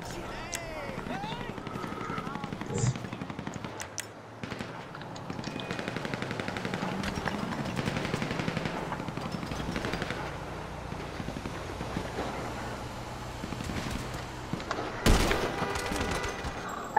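Gunfire in Grand Theft Auto V, with rapid shots crackling through a busy game mix and a louder burst near the end.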